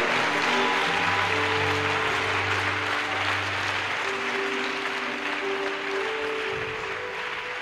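A church congregation applauding loudly to acclaim the Lord, a dense sustained wash of clapping that runs steadily to the end, with sustained organ or keyboard tones sounding beneath it.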